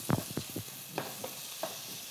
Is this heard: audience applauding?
no